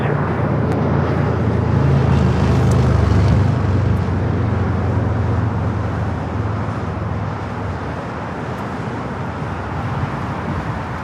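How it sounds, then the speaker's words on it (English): A Gulfstream G550 jet taxis across runway 25 right at LAX, a loud, steady low engine rumble and roar holding strong, then easing slightly toward the end, with no speech. "Captain 77 at Juliet, crossing 25 right, contact ground 5 today. At Juliet, cross 25 right, over ground. It's a Gulfstream G550."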